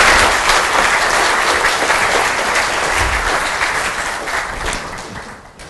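An audience breaks into loud, sustained applause welcoming Dr. Mann at a talk on American political polarization, a dense wash of many hands clapping that slowly fades toward the end.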